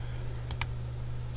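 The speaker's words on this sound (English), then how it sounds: "press 3 on the keyboard to go to face select" Two quick computer keyboard key presses while modeling a streetcar in Blender, sharp light clicks close together over a low steady hum.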